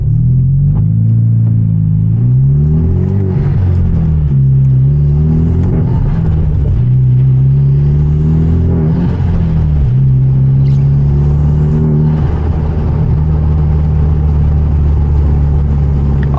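A manual Hyundai Genesis Coupe with an aftermarket exhaust accelerating on a rainy night drive, loud, close engine rumble rising and falling through repeated revs and gear changes, steady and continuous with no talk.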